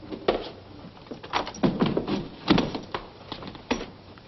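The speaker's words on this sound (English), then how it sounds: "Shut the door, Rocco." A door is shut in a room, heard as a series of close wooden knocks and clunks spread over a few seconds, without speech.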